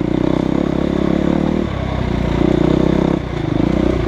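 A Husqvarna FE350 dirt bike rides over hard-pack trails and rutted hills. The engine chugs loud and close, its revs dropping and picking up again twice, with light rattles of clatter.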